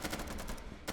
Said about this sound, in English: We can see just the gunfire raging out